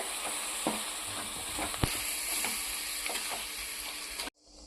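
Capsicum cooks in a dahi (yogurt) curry over low heat, giving a continuous close sizzle and bubbling with a few soft spoon scrapes and taps, until it cuts off abruptly near the end.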